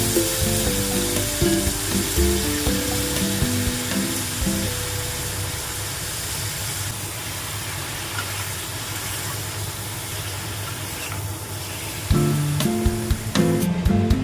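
Broccoli and potato pieces frying in a pan with prawns nearby, a loud continuous sizzle with a few rattling stirs, easing to a softer hiss midway before busier clattering returns at the end.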